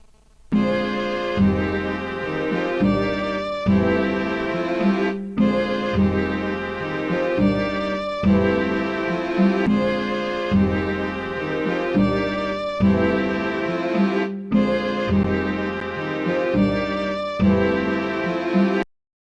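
A sustained, layered solo violin sample plays continuously with a wide, roomy reverb tail, phrases swelling and briefly pausing in a steady rhythm.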